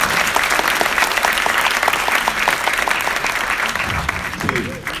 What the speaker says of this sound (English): Please give a big applause to Mr. Charles.